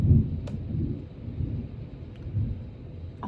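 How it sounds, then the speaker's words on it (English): Low, rumbling thunder rolls in waves, loud and close, with a few faint crackles over the deep rumble. "one of the loudest cracks of thunder I've ever heard in my entire life"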